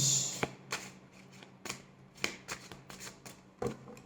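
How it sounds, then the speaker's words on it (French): Tarot cards being cut and shuffled by hand, a close series of crisp flicking riffles and slaps at irregular intervals, with no voice over them. "Hop, je coupe le jeu."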